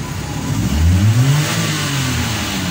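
A Suzuki Wagon R engine with a freshly cleaned catalytic system revs up under the accelerator, rising to a loud mid-pitched peak and holding a steady drone, close by with no talking.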